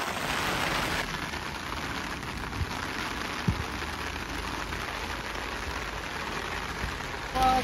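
Heavy rain pours in the hills of Darjeeling as a dense, steady hiss of drops striking surfaces close by, with a faint engine hum underneath and a sharp knock near the middle.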